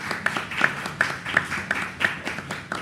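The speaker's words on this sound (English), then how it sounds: "let's have a huge round of applause for Srinath here" A small audience at a chess event claps for a guest, giving brief, uneven, rhythmic applause at moderate volume from close by.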